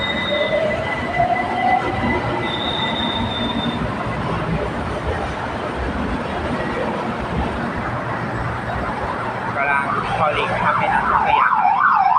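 A BTS Silom Line skytrain runs in and out of platform 3 at Saphan Taksin station, a loud rumble of wheels on rail with squealing and a two-tone warning melody near the end.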